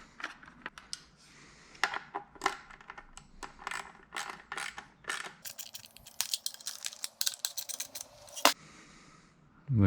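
Hand ratchet tightening bolts on a removable body panel of a Toyota FJ Cruiser, a run of quick close clicking bursts with short pauses between them, plus some metallic handling clatter, no talking.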